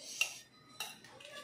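A spoon clinks against plates while a spiced peanut mix is portioned out, giving two or three bright metallic taps and scrapes, close and fairly quiet, with no talking.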